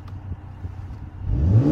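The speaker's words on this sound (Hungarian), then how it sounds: "Kipufogó hang." A Mercedes-AMG C43 Coupe exhaust gives a few low idle burbles, then rises into a short, loud rev close by.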